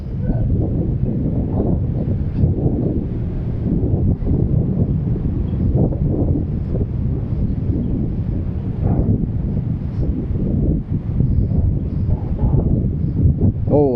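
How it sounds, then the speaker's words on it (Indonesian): Strong wind blowing off the Mahakam river in Samarinda buffets the microphone in a loud, continuous roar with gusty surges, steady throughout with no clear voices. "Oh, angin yang deras."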